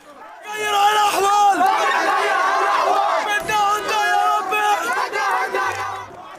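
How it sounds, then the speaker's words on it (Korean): A large crowd of Gaza residents shouts and cheers together in the street at news of a ceasefire, a continuous roar of many voices, loud and lively, with chants rising and falling. "가자지구 주민들이 길거리로 쏟아져 나오고 환호하며 기쁨을 만끽합니다"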